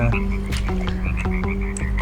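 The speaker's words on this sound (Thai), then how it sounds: "อย่าเพิ่งกินฉันนะกบนะ" Repeated croaks from a frog in the Roblox video game, several calls in quick succession over a steady electronic music bed, loud and close.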